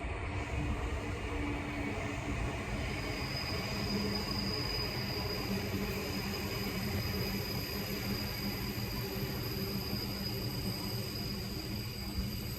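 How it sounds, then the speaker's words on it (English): A steady, continuous rumble of a train rolling past, with a constant hiss and faint high whine throughout, no voices. "Another train."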